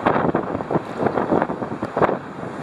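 Gusty wind buffets the microphone in uneven bursts beside a long jetty at Hervey Bay, Queensland, a loud rumbling rush with no voices.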